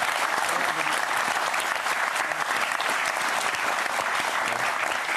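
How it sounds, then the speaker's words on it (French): A studio audience applauds to welcome Laurence Ferrari, a dense, steady wash of clapping that holds at full volume for the whole stretch. "Je vous demande qu'on l'applaudisse."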